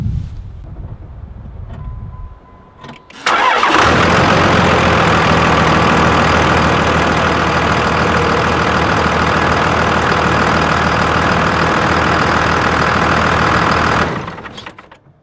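A 20-year-old truck engine cranks briefly, catches and settles into a loud, steady idle close to the microphone, running for about ten seconds before cutting off, with some wind noise throughout.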